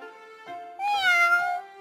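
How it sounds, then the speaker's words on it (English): A small black kitten gives one clear, close meow that rises and falls over about a second. It is heard alone, with no other noise. "Meow. It said, and rubbed against Bentley's leg"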